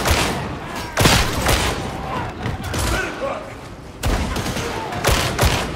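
Gunfire in the video game Warhammer 40,000: Darktide, a loud, dense barrage of shots with heavy booming bursts near the start and again later, accompanied by a voice talking over the shooting.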